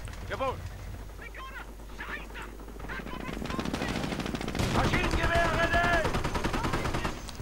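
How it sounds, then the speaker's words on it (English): Automatic machine gun bursts from a real-time strategy battle between rival infantry divisions, rapid rattling fire growing louder and denser after a few seconds, with other gunfire and battle noise mixed in and a voice talking over the mix. "Thus once further increasing the automatic fire of this team, making it that much more devastating."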